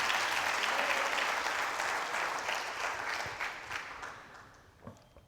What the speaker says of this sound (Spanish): Hoy sí lo vamos a unir a la hermana para dar una ofrenda de palmas.